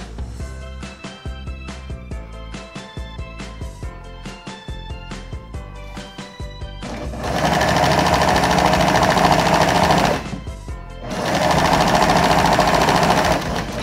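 A sewing machine stitching along the edge of a cloth baby bib, with an opening stretch of slow, uneven mechanical clicks and thumps followed by two loud, continuous runs of fast whirring stitching separated by a short pause.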